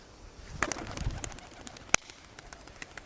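Pigeons released during homing training coo faintly at a distance outdoors, with a sharp click or snap partway through and light ambient noise.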